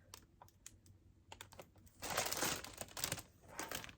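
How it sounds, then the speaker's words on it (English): Plastic yarn packaging crinkles close up in a quiet room. Light, scattered rustles come first, then louder, sustained crackling bursts fill the second half. "Sorry for the crinkling."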